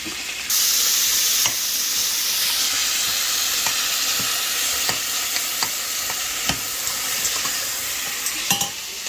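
Onion and tomato fry fast for kuzhambu, making a loud, continuous hissing sizzle, with light scrapes and taps of stirring scattered through it.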